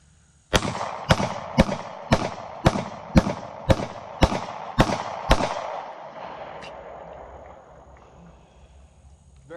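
Nine evenly spaced pistol shots from a Glock 43 or Taurus GX4 at an outdoor range at dusk, sharp loud cracks about half a second apart, each ringing out briefly before a fading echo.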